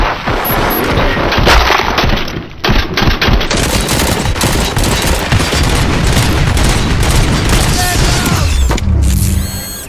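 Sustained automatic gunfire and booming shots in the RoboCop: Rogue City video game, loud and dense with rapid bursts throughout, mechanical clatter, a brief lull near the start and a tail of ringing after the final burst.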